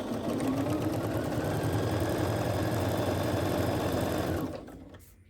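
A sewing machine runs at a steady fast stitching rhythm as quilt pieces are sewn at a quarter-inch seam for a Bumbles and Blooms quilt, loud and close for about four and a half seconds, then stops and trails into quiet.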